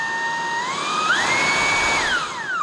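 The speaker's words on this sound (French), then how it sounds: "la brosse est électrique, elle tourne, en plus d'aspirer, elle tourne pour aspirer beaucoup plus de poussière" A Dreame T30 Mistral cordless vacuum cleaner with a rotating electric brush runs close by, a loud continuous motor whine whose pitch rises and falls as it shifts speed, with no voices.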